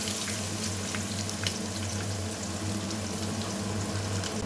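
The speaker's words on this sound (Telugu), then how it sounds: "అవన్నీ రోస్ట్ అయ్యేటప్పుడే ఇందులో ఒక ఆనియన్ యాడ్ చేసుకోండి" Onion, two chillies and spices frying in oil for a chicken biryani, giving a steady close sizzle and crackle throughout with a low hum beneath and no voices.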